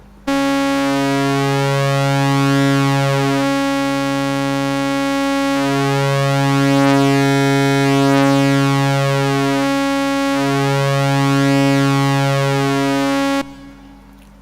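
A buzzy synthesizer tone from oscillator sync, the synced oscillator's pitch swept manually, with a harsh, shifting timbre that sweeps up and down in slow waves, playing steadily and alone before cutting off abruptly.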